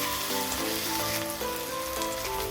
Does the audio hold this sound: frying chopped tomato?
yes